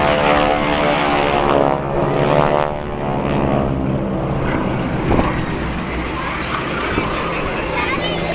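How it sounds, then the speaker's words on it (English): A Boeing Stearman biplane flies at an Irish airshow, its propeller engine droning steadily with rising and falling pitch as it passes, under loud announcer commentary over the public address. "The Boeing Stearman aircraft, extremely robust, designed originally for training military pilots from the beginning."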